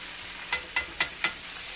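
Crappie fish and fresh wild-foraged oyster mushrooms frying in hot oil, a steady sizzle with four quick, evenly spaced crackling bursts close by, no talking.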